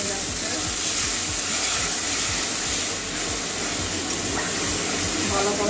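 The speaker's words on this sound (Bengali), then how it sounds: "এবারে জল ঢেলে দেবো" Water pours steadily into a cooking pan of tomato and spice masala for a mushroom and potato curry, a continuous gushing splash at moderate volume with a faint rhythmic tapping underneath.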